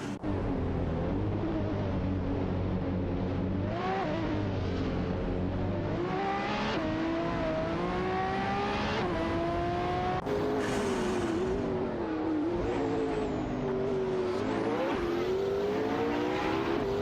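Engines of race cars in a racing video game whine and rise in pitch as they jostle and overtake, a continuous layered roar with shifting revs and a sudden change partway through, loud and without talk.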